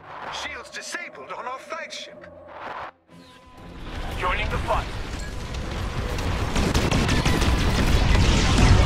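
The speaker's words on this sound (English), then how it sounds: "Shots fired!" Rapid blaster gunfire and explosive bursts in a Star Wars: Squadrons ranked fleet battle, dense and loud. It builds after a short pause that follows electronic chirps and radio voices.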